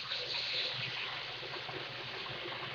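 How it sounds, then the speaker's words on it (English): About three cups of water poured into a pot holding a browned beef roast make a steady, close hissing splash that runs evenly for a few seconds. "So now I'm getting ready to add some water to it so it can simmer and make its own broth."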